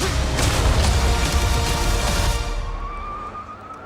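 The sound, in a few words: truck skidding to a stop in a movie trailer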